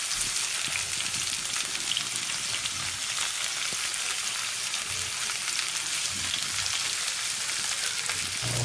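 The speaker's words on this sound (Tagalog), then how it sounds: "So, maglalagay na po tayo ng sabaw." Fish with lemongrass sizzles and fries steadily in a pan as broth goes in, giving a continuous close crackling hiss with bubbling texture and no voices.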